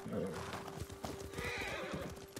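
A horse whinnies near the start, followed by a quick run of clopping hoofbeats, close and moderately loud, in the video game Ghost of Tsushima.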